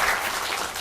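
Brief burst of audience applause welcoming the Nowon-gu district mayor at an energy policy symposium, dense steady clapping from a crowd in a hall.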